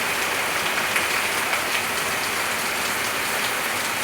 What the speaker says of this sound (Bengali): এই দেখুন পুরো বৃষ্টি,